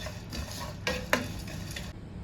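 Spice mix stirred in a pan for chicken bhuna masala, a steady dry scraping with a few sharper clinks of the utensil against the metal, close and moderately loud, with no talk.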